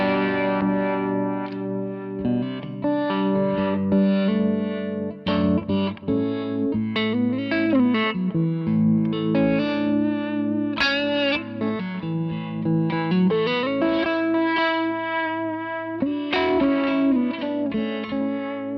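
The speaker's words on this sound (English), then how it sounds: "I'll show you my harmonic tremolo sound" An electric guitar played through a pedalboard with drive, delay and a harmonic tremolo effect rings out in sustained, pulsing chords and melodic lines, loud and close with echoing repeats and no voices.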